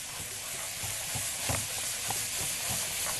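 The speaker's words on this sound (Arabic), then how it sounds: "هننزل بالفلفل الأول قبل البصل واشوح ده كله كده مع بعض" Colored bell peppers sauté in a pan with sausage and garlic, giving a soft, steady sizzle with light stirring scrapes that tap through it at a quiet level.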